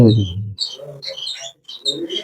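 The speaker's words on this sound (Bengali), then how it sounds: "এখানে সব ফিঞ্চ পাখি জেবরা ফিঞ্চ পাখি সব বাচ্চা ডিম নিয়ে বসে আছে" Zebra finches tweet in quick, bright, high chirps inside an aviary where they sit on eggs with their young. A low voice is heard briefly at the start, then the chirps go on close by in scattered bursts.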